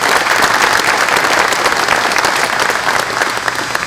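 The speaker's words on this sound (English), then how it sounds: "Let's give them a big round of applause." Loud, dense applause from a crowd at an economic development announcement, sustained without a break and close to the microphone, with no voices over it.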